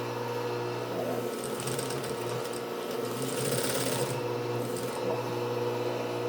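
Singer 291u1 industrial sewing machine driven by a clutch motor, stitching steadily with a continuous mechanical whir and motor hum throughout, moderately loud and close, with no voices.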